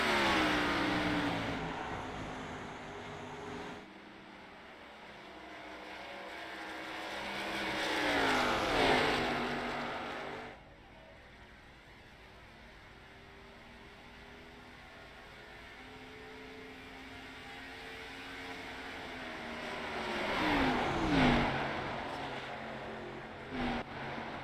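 Xfinity stock cars race in a sim racing game, their engines roaring loud as they sweep past in two big passes, with a steady droning engine hum between them.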